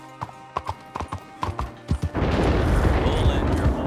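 In Red Dead Redemption 2, a horse's hooves clip-clop in a quick uneven series of distinct steps, then give way to a louder rushing gallop with wind-like noise, close and prominent.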